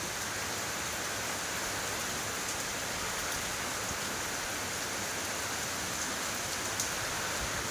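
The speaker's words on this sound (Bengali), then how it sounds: "একটা মুসলধারে বৃষ্টি হচ্ছে" Torrential monsoon rain pours in a dense, unbroken hiss that holds at one level throughout, with no voices.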